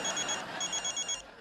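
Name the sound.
telephone ringing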